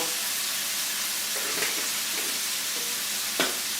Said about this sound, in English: Let that tofu absorb all those sauteed flavors